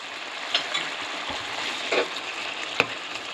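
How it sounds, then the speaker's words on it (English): Shrimp fry in sauce in a pan with a steady soft sizzle, broken by a few light clinks and stirring knocks, close and without talk. "So now we can add our shrimp in."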